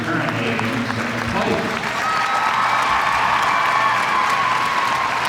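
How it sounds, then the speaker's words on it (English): An arena crowd at the 2025 U.S. Figure Skating Championships women's free skate applauds and cheers for a skater, a loud sustained wash of clapping with whoops, and a commentator talking over it. "a great response from the crowd, showing their appreciation for her performance"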